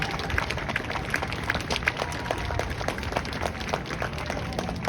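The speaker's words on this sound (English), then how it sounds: "let's give them a round of applause" Audience applause at an eighth grade promotion ceremony, a steady wash of many hands clapping at moderate distance, dense and continuous for the whole stretch.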